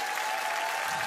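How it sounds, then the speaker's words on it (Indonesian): Audience clapping after a school performance of traditional music at a Perlis–Selangor cultural show, a brief burst of dense applause lasting about a second, with no voices over it. "Berikan satu tepukan lagi sekali untuk mereka."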